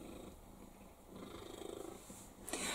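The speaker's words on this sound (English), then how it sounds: "Can you hear that purr?" A pet cat purrs close by in a kitchen garden, a soft, steady rumbling purr lasting a few seconds, with faint background noise.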